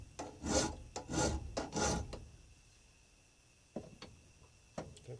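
A big metal file rasping over an adjustable wrench in several long rough strokes, followed by a few sharp taps and clicks of the tool.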